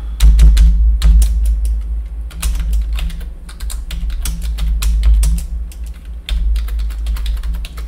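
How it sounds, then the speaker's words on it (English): Fingers type on a computer keyboard close up, with quick irregular bursts of sharp key clicks and short pauses between words over a low steady hum. "So then I just type"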